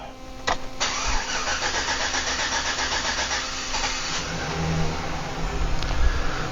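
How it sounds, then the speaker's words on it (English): A 2008 Chevy Silverado 1500 with a bad fuel sending unit and internal regulator cranks laboriously for a long stretch, a loud, steady starter grind with a rapid pulsing rhythm that never quite catches, close up and alone. "I'm going to give you the labored crank again."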